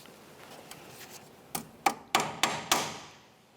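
A hammer peens over a cotter pin on the tie rod end of a 2004-2006 Scion xB, a few light taps followed by five sharp, ringing metallic strikes at an even rhythm.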